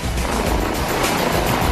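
Bell 407 helicopter with its main rotor turning, a loud, steady broadband roar and wash filling the whole moment without a break.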